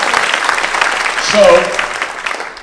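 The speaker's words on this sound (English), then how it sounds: "let's give John a round of applause" Brief audience applause at a seniors' talent show in Knoxville: moderate clapping rises and fades over a couple of seconds, with someone speaking over it.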